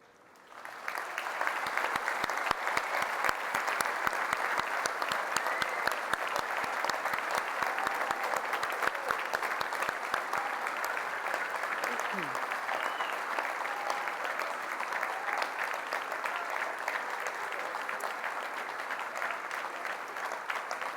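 A graduation ceremony audience claps hard and steadily in a large hall, dense sustained applause that builds up from a quiet start and carries on without a break, with no cheering voices standing out.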